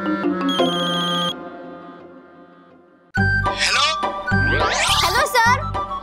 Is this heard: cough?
no